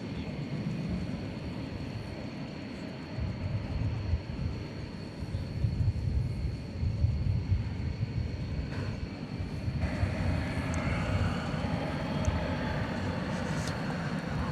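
An American Airlines jet rolls for takeoff at Dallas Fort Worth airport at night, a steady broadband engine roar that builds slightly over fifteen seconds and rumbles on continuously, fairly distant and with no voices.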